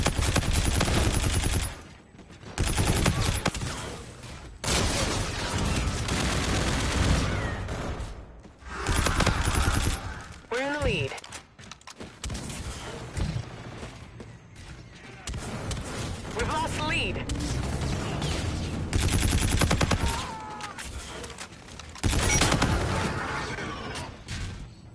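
Rapid bursts of automatic gunfire from a first-person shooter game crack out in loud, repeated volleys across the whole stretch, with players talking over the shooting.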